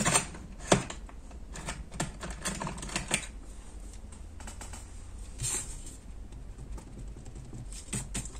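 A pencil eraser rubs out a mistake on paper during paper crafting, giving quick scratchy bursts of rubbing, close and fairly quiet, with a louder tap near the start and no talking.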